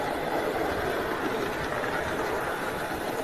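A miniature ridable steam train runs on a backyard track, giving a steady, continuous rumble and hiss with faint rhythmic rail clatter close by, and no one talks.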